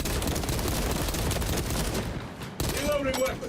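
Rapid gunfire in Space Marine 2 sounds as a dense, loud burst of shots and impacts that cuts off abruptly, followed by a shorter renewed burst, with a voice talking over it.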